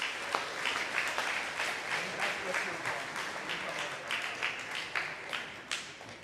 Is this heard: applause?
yes